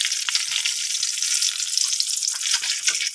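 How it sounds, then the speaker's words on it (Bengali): Cardamom pods added to hot oil in a karahi where potatoes were just fried, crackling in a constant, close frying hiss with small pops scattered through, no voices. "দিয়ে দেবো এলাচ"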